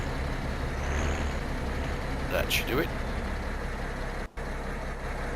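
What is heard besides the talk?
MB Trac tractor engine in video game Farming Simulator 17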